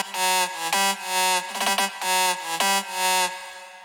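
A bright, buzzy sawtooth synth lead, the EDM Saw 1 patch from Vengeance in FL Studio, plays a punchy rhythmic phrase of repeated stabs with a quick stuttering run in the middle, loud and alone.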